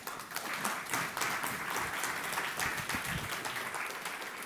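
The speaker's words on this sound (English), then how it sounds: "Please give them a round of applause." Sustained applause from a conference audience at a food-as-medicine panel discussion, steady dense clapping filling the room at moderate loudness for several seconds without a break.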